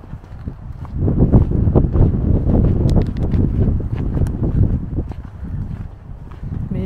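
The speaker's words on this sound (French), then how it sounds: "Là il fait bon, il y a du vent." Wind gusting outdoors on a desert hiking trail near Sedona, Arizona, a steady rumbling buffet across the microphone that swells and eases throughout, with faint crunching footsteps beneath.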